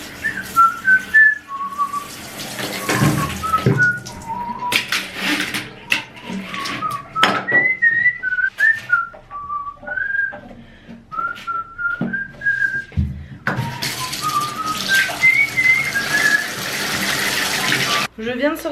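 A person whistles a meandering melody, clear and close, with a brief pause midway and a hissing, running-water backdrop throughout.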